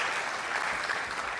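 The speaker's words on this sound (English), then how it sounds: "Let's give him a round of applause." A university audience at a research center announcement breaks into a brief burst of applause, a close, dense wash of clapping hands with no pause.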